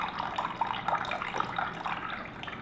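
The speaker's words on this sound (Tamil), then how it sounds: "சார் இந்த பைப் இருக்குது பார்த்தீங்களா, அதை திறந்துட்டா ஜூஸ் வரும்." Watermelon juice runs from the tap of a juice dispenser, a steady close trickling and splashing stream with no voices.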